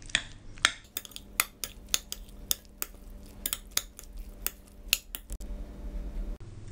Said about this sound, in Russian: И хорошо перемешиваем.